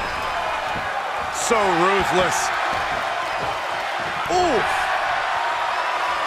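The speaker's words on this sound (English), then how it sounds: "What a raucous crowd here tonight." The arena crowd in the WWE 2K23 wrestling video game keeps up a constant roar of cheering, swelling a little in places, under spoken commentary.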